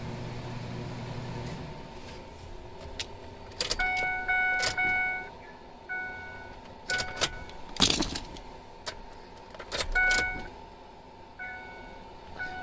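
Inside a 2007 Ford F-150 with a 4.6-litre V8, an ignition key is turned on and off several times, giving repeated clicks, key jingles and short warning chimes over a quiet cabin hum.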